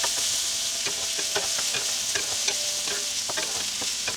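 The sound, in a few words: okra stir-frying in hot oil with cumin seeds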